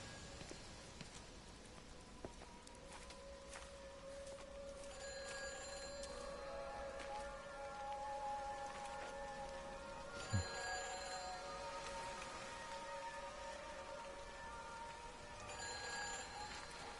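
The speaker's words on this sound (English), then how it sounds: "And hear a phone." A telephone rings faintly in the video game Everybody's Gone to the Rapture. Bursts of bright electronic ringing repeat every few seconds over a quiet outdoor ambience with soft patter and footsteps.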